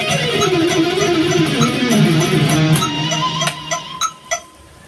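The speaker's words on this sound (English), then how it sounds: "So I'm going to be playing 4 notes per beat here, 16th notes, so something like this." Fast electric guitar run of sixteenth notes at roughly 200 bpm, a dense stream of distinct picked notes played alone, ending in a few separate plucked notes that ring out.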